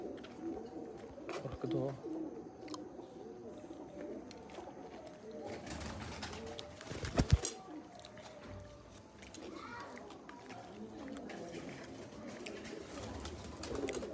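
Teddy pigeons cooing softly in a loft, low repeated coos scattered through the clip beneath a voice and household background noise, with a brief louder clatter near the middle.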